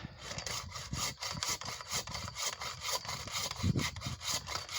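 A pole saw cuts through a thick tree branch high up, with steady, rapid back-and-forth rasping strokes of the blade biting into the wood, close and continuous.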